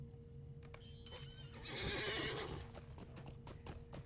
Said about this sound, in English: the horse almost went off the side of the bridge